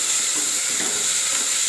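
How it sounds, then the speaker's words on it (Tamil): Onions with ginger-garlic paste, mint, coriander and fennel paste fry in a pot for veg biryani, giving a loud, dense, steady sizzle with soft stirring scrapes underneath and no voices. "பச்சை வாசம் போக இதை கிண்டிக்கலாம்."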